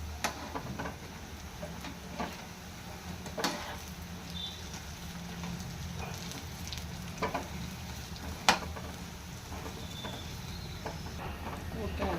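Punugulu batter fritters deep-fry in hot oil, giving a steady low bubbling sizzle with occasional clinks and scrapes from turning them, with faint background sound.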